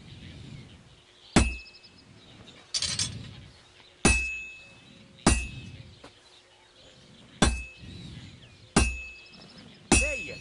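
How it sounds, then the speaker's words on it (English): Blacksmith's hammer striking a sword at the forge in Kingdom Come Deliverance 2, seven loud ringing metallic clanks in a steady rhythm, each followed by a short decaying ring over low forge rumble. "When I hammer a piece to a beat, the work goes by easier."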